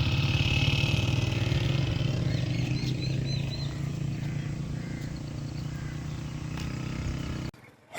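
Motorcycle crossing a damaged bridge road, its engine droning close and loud before easing off, then cutting out abruptly near the end.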